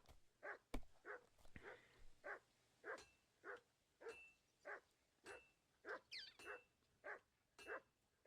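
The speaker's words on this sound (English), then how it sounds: "I can't stop Mutt from barking now since I'm playing the game" A dog barks steadily in the video game Kingdom Come: Deliverance 2, a regular run of about a dozen single woofs at even intervals, moderately close and alone.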